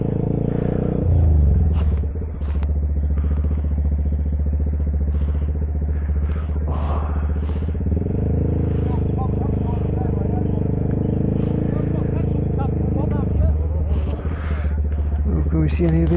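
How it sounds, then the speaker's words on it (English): Many motorcycles rumble at the Dragon Rally 2024 in Wales, a loud, steady low engine drone with occasional revving swells and clattering, while people talk nearby. "Everywhere you look there's just motorbikes"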